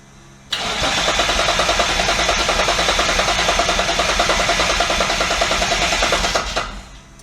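A twin-turbo Triton engine cranks on the starter in a steady, rapid rhythm for about six seconds, loud and close, then cuts off without catching.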